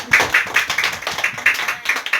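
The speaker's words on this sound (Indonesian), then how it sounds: "Beri tepuk tangan untuk Aisyah." Small group of schoolchildren clapping for a classmate in a primary classroom, a short burst of uneven, fairly close hand claps lasting about two seconds.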